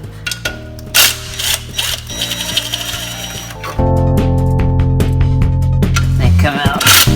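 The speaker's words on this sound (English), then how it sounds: "We got the impact gun here, and this is one of those star spline deals." An impact gun buzzes in loud, sustained bursts as it removes 10mm star-spline flywheel bolts on a Honda Civic Si during a transmission job, close up, with brief speech in the garage.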